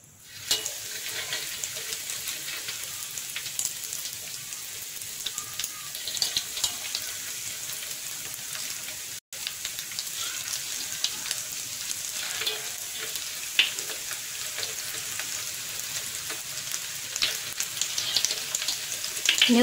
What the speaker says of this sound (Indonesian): Lalu kita mau goreng.